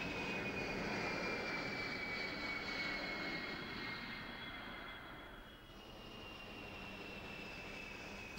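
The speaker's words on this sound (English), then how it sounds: "Six Air Force C-141 Starlifters fly in close formation." Six Air Force C-141 Starlifter jet transports fly in close formation, a steady loud engine roar with a high whining tone drifting slightly in pitch, heard alone without speech.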